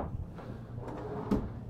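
Large storage drawer sliding open in a 2022 Newmar London Aire motorhome, a quiet soft rumble with a brief knock near the end, fairly faint and close.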